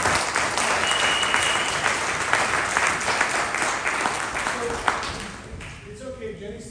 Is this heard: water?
no